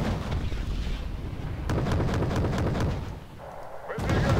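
A Tor air-defence system firing on an aircraft in the game Wargame: Red Dragon, heard as booming launches and rumbling blasts over a continuous roaring battle din, with voices talking over it.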